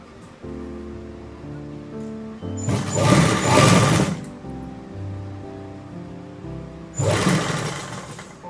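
A sewing machine joins the sleeve of a designer kurti, with a low steady hum broken by two loud, dense bursts of fast stitching.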